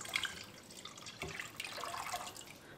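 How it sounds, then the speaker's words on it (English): Lye solution being poured into warm melted oils while making liquid soap, a steady watery splashing and trickling pour that runs throughout at moderate, close level with no voices. "Now that my oils are well and truly all melted together and getting quite warm, I'm going to add the lye solution."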